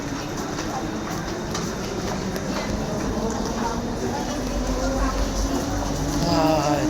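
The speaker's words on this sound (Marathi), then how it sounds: "ट्रेनमध्ये चढलो आहे" Riding aboard a Mumbai-area local train headed toward Airoli, the carriage gives a continuous rumbling roll with rhythmic wheel clatter and a rising tone near the end, with faint background voices mixed in.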